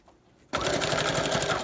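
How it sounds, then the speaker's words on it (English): A sewing machine stitches through looped wire on a junk journal wing embellishment, starting abruptly after a quiet moment and running steadily with a close, rapid, even needle rhythm. "the sewing machine."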